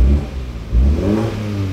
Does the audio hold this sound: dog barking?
no